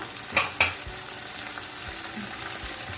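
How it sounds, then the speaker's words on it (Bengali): Chicken with sliced green and red chillies fries in a pan for Bengali restaurant-style chilli chicken, a quiet continuous sizzle broken by a few sharp stirring clicks, with no voices. "নাড়াচাড়া করবো এগুলোকে একটু ফ্রাই করবো এর মধ্যে দিয়ে দিচ্ছি আমি কাঁচা পাকা একটু স্লাইস করা লঙ্কা"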